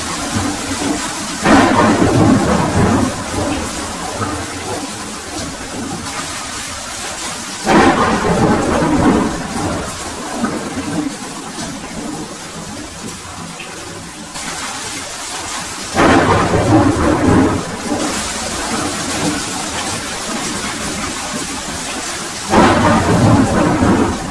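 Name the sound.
heavy rain with thunder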